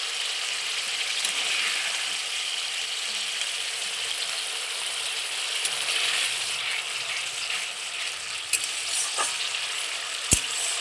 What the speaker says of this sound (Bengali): জলটা দিয়ে আবারও খুব সুন্দর করে কষিয়ে নেব।